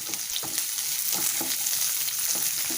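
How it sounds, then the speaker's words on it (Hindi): Sliced onions fry in hot refined oil, giving a loud, dense, steady sizzle with a few soft stirring clicks over it and no talk. "अब तेल गर्म हो चुका है। अब हम इसमें डाल रहे हैं स्लाइस्ड अनियंस।"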